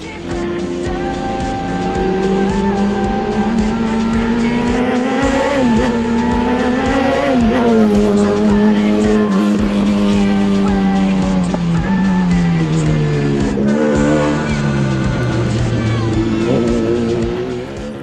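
Radical SR prototype race cars, British open-cockpit circuit racers, lapping a track: loud high-revving engine whine rising and falling through gear changes, with brief lifts and downshifts, continuous and close.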